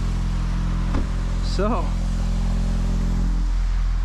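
A Volkswagen Golf R in race mode rumbles with a steady, deep exhaust drone close by, while a person briefly speaks partway through.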